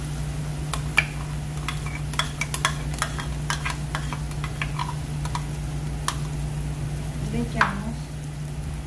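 A pan of sauce with cream just added, stirred with faint scraping ticks over a low, steady sizzle and hum, fairly quiet with no talk.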